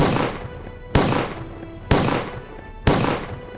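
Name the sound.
gunfire sound effect in a dramatized historical narration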